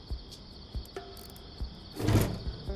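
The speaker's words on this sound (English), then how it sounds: "The crickets are still kind of cute." Crickets chirping in the cozy decorating game Hozy, a soft high continuous trill with a few faint clicks and a brief louder shuffle near the end, quiet and alone.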